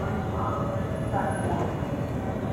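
A JR 221 series local train to Yasu rumbles low and steady as it pulls away from Himeji Station, a continuous rolling drone with faint higher hiss above.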